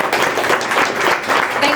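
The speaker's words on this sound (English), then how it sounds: "A massive round of applause for all of our panellists." An audience applauds seminar panellists, a dense clapping wash that carries evenly through the clip and mixes with some voices.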